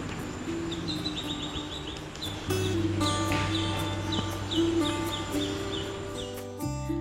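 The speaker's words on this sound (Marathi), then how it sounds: "इथल्या शांततेत अनेक पक्ष्यांचे आवाज कानावर ऐकू येत आहेत" Many birds call around a quiet temple set in forest, overlapping chirps, tweets and whistled notes continuing throughout, some close and some farther off, with no talking.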